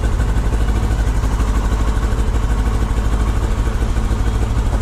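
A 2008 Kawasaki ER6f motorcycle engine idles close by with the choke on, revs running slightly high, a loud, steady, evenly pulsing drone with faint mechanical clatter.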